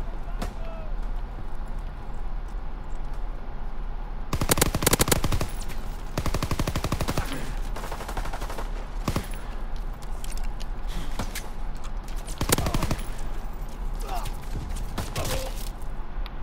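Heavy Call of Duty WWII multiplayer gunfire crackles from many directions in dense automatic bursts and scattered single shots, loud and close, with a steady background din throughout.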